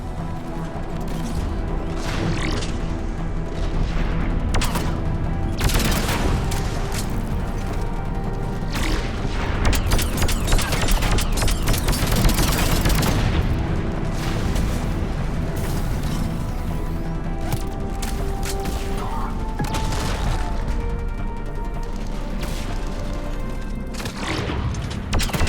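A Mass Effect 3 battle booms and crashes, heavy blasts and scattered shots rolling over a dense, continuous mix of combat noise and score, steady and loud throughout.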